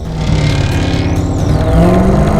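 A race car lapping during the One Lap of America, its engine roaring loud and close with a steady drone that climbs in pitch as it accelerates near the end.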